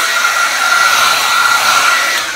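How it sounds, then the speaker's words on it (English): A hair dryer blows with a loud, steady airy roar and a thin high whine running underneath, continuous and close up. "I am about to use my hair dryer."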